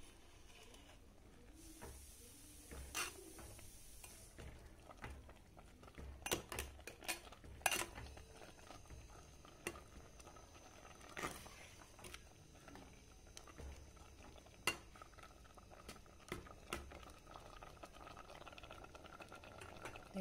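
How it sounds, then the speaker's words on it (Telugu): Cowpea and gongura curry bubbling in a pot while being stirred, with scattered clinks and scrapes of a spoon against the pot over a steady low simmer, no talking. "బాగా ఉడుకుతుంది. దీన్ని కలబెడదాం."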